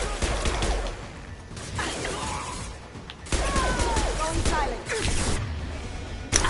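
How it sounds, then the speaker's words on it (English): A shotgun in Mass Effect 2 booms in heavy blasts over constant combat noise, with a strong burst near the middle and mechanical clatter and shattering debris around the shots. "I'm using the fucking shotgun"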